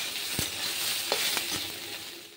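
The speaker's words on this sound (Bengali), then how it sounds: "সয়াবিনটা লাল লাল ভাজা হয়ে গেলে তুলে রাখবো।" Soybean chunks fry in hot oil with a steady, close sizzle, broken by a few clicks of stirring.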